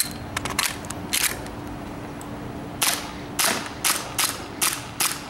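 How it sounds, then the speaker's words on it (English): Sharp snapping shots and mechanical clacks from an airsoft M&P pistol being fired, several quick reports in an uneven rhythm, close and crisp with no talking. "I'm gonna try the M&P, because I haven't actually fired this one yet."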